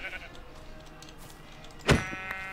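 A sheep in the Minecraft video game lets out a single short, fairly loud bleat that rises briefly over quiet background ambience.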